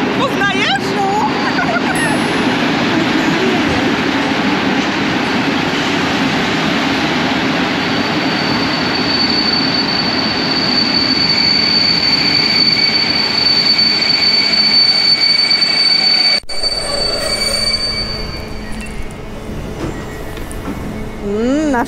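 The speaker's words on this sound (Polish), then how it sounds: "Nasz ulubiony pociąg." A Polish passenger train near Kraków Główny runs on the rails with a loud, steady rumble and sustained wheel squeal over about sixteen seconds, then cuts off abruptly and leaves only quieter cabin sound.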